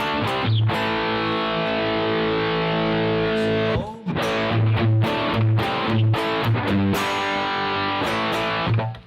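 Electric guitar runs through an Origin Effects Revival Drive pedal turned up for more drive, giving thick, sustained overdriven chords and riffs with brief gaps between phrases.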